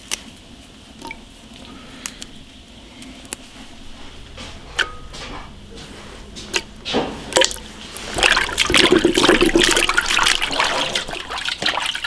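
Running water splashes and trickles over pig ears as they are washed, starting with scattered drips and handling noises, then a louder, steady gush near the end.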